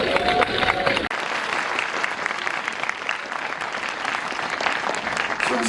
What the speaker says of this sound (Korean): 여러분 박수 한 번만 주세요